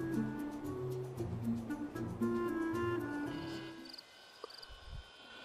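A UFO landing in The Sims 3 gives a layered, humming electronic tone with pulsing harmonics that cuts off sharply, followed by faint high chirps and a low thump.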